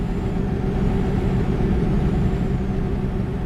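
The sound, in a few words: trucks rolling past in video game American Truck Simulator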